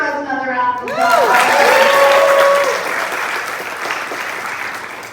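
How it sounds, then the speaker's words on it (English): A crowd applauds a panel moderator at a Bisexual+ film and TV event, clapping rising over a speaking voice, peaking loud and full, then thinning to scattered claps. "Can we give Rose another round of applause?"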